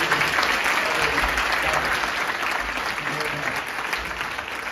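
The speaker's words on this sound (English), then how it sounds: "Let's give another round of applause." A live audience at a TEDx event claps after a djembe and ballet fusion performance, giving sustained, loud, dense applause that fades slightly toward the end.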